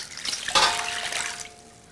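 Water is poured into an electric wok with ginger slices, giving a steady close splashing gush that fades to a thin trickle.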